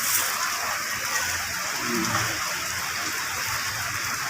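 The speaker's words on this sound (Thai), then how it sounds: "ฝนตกฝนตกฝนตก" Rain pours down over an open fresh market in Thailand, a dense continuous hiss of drops hitting surfaces with no voices over it.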